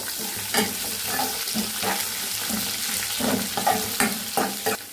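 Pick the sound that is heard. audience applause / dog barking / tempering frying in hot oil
tempering frying in hot oil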